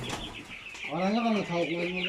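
Chickens and chicks at a village farm in Osmaniye, clucking in a few drawn-out rising calls that stand out clearly, with a bird call and a voice underneath.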